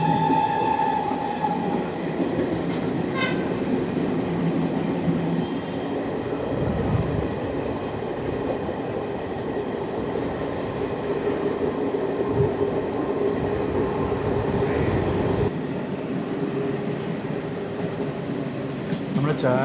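Jan Shatabdi Express with ICF coaches running toward Chertala station, a steady close rumble of wheels and carriages throughout, with faint squeals and clatter layered over the continuous roar.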